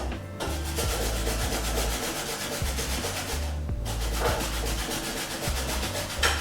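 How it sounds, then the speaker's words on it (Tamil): Repeated rasping scrapes of a vegetable peeler shaving a zucchini with the skin left on, close and steady in quick rhythmic strokes throughout. "இது முதல்ல சீவலில் வச்சு சீவி எடுத்துக்கலாம்."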